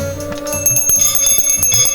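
A hand-held brass puja bell rings rapidly and continuously near the listener, its bright metallic tones overlapping in a shimmering, sustained peal.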